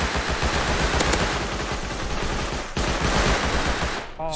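Rapid, loud, continuous AK rifle bursts fire up close in the video game Rust, a dense rattle that runs for several seconds before a brief pause and then resumes, with no talking.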